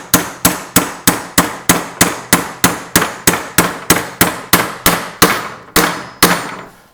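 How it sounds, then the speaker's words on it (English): Hammer driving a star nut down into a bicycle fork steer tube on an SR Suntour Durolux EQ fork, heard as about eighteen sharp metallic strikes in a steady rhythm, close and loud, with the blows slowing slightly toward the end. "So yeah, so then I can just take this and hammer this down in."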